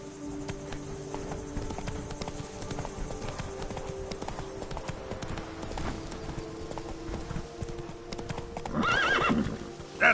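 The horse Roach gallops in The Witcher 3: Blood and Wine, with a steady, fast clip-clop of hooves throughout and a whinny near the end, set against a continuous game soundscape.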